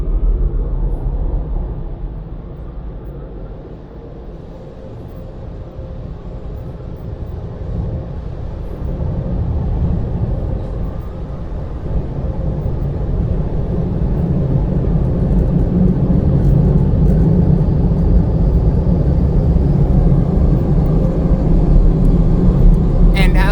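Powerful air dryers blow at the end of a car wash in Latrobe, PA, a steady broad roaring rush that swells louder over time, close and continuous with no talk.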